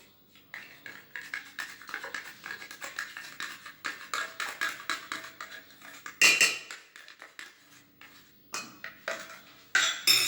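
Coffee caramel cream being stirred in a pot with a utensil, giving a quiet, rapid series of close metallic scrapes and taps against the pot, with a couple of louder clanks.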